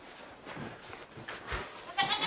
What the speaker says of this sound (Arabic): بابا صوت معزة